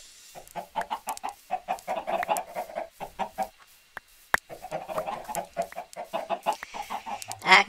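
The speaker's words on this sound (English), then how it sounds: "I can collect eggs and I can feed chickens." Chickens in a farm-building video game cluck in quick, repeated bursts, a steady rhythmic stream of close clucks with a short pause midway, no talking.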